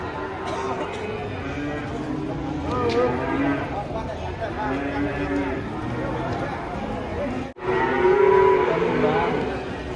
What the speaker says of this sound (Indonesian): Sapi galak.